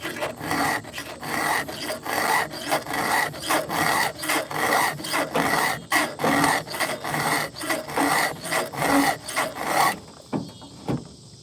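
A hand saw is sharpened with a file in steady rhythmic rasping strokes, close and loud, running for about ten seconds before stopping.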